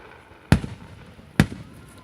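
Two sharp July 4th fireworks blasts crack out about a second apart, loud and booming with short echoing tails over a quiet night background.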